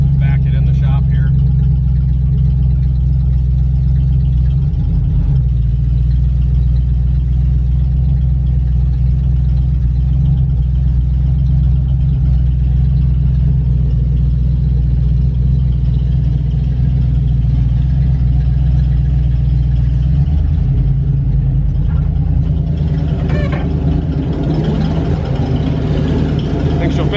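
A 500 cubic inch big block Cadillac-powered G body car idles loudly and steadily while backing into a shop, with a few light throttle changes and voices talking near the end.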